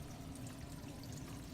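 Water running from a tap during a home inspection in Iceland, a steady quiet pouring hiss with no break, heard alone without talk.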